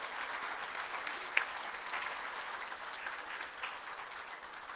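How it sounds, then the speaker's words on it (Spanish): Audience applause at the opening of a migrant symposium in San Andrés Cholula, a steady wash of clapping from a seated crowd held at moderate level for the whole stretch, with one sharper clap standing out near the start. "quisiera pedir un fuerte aplauso para los que se quedaron en el camino"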